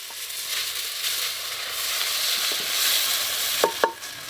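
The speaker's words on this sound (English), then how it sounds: "We add onions, then we fry until they are golden brown" Onions fry in a pan over an open village cooking fire, giving a soft, steady sizzle with a couple of sharp stirring scrapes near the end and no talk.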